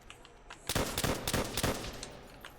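Gunfire in the zombies mode of the video game Call of Duty: World at War, a quick burst of several close, loud shots in rapid succession following a brief quieter lead-in.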